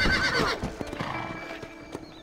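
A horse whinnies loudly and close up in the Red Dead Redemption video game, then a few hoof clops follow, with no talk.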